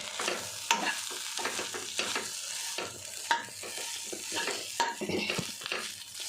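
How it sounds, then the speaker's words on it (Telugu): Rice being stirred into a spiced meal maker and paneer masala in a pan, giving repeated scraping strokes of a spoon over a light sizzle in a steady rhythm, close and moderately loud. "దీంట్లో ఇప్పుడు రైస్ వేసి కలుపుకుందాం."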